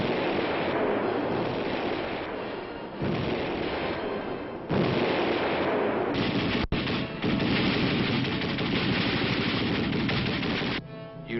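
Infantry weapons firing at a training range, loud continuous bursts of gunfire and heavy reports that roll on without pause, with a sharp crack near the middle and a brief dip before the end.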